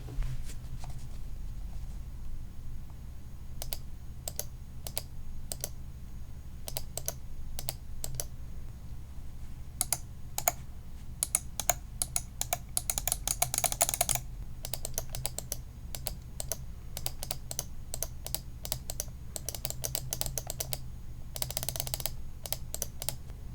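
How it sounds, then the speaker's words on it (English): A Mionix Naos 7000 gaming mouse gives sharp, crisp left and right button clicks. They come in irregular bursts and rapid clusters, close up against a quiet hum. "The left and right mouse buttons seem to be a little bit louder of a click than the Naga."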